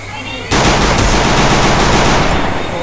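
Sustained burst of rapid automatic gunfire in the Free Fire battle royale game, loud and dense, starting abruptly after a brief quiet moment and continuing without pause.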